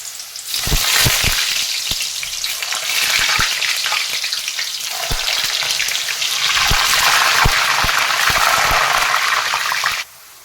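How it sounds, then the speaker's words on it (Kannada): Potato slices for homemade chips frying in hot oil, a steady loud sizzle with occasional sharp crackles and pops, continuous for about ten seconds and then cutting off abruptly. "ಈಗ ಒಂದೊಂದಾಗಿನೇ ಈ ಥರ ಹಾಕ್ತೀನಿ ಎಣ್ಣೆಯಲ್ಲಿ"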